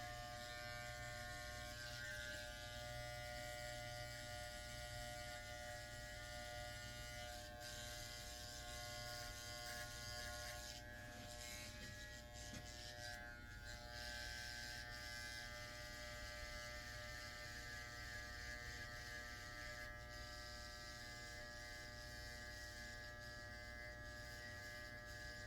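Electric hair clippers buzz steadily and continuously while cutting a fade, a close, constant motor hum with no talk throughout.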